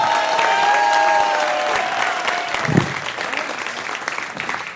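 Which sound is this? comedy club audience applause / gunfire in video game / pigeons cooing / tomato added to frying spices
comedy club audience applause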